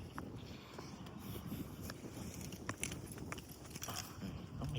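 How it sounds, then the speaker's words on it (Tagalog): Steady wind noise rushes against the microphone, with low rumbling buffeting throughout and a few faint clicks and rattles on top. "Lakas ng hangin. Ririnig nyo pa yan."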